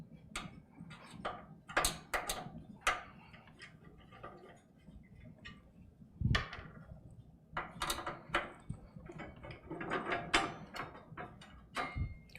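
Thumb screws being unscrewed and removed from a Thermaltake AH T200 PC case, a series of close, sharp metallic ticks and ratcheting clicks with irregular rhythm, alone without talk.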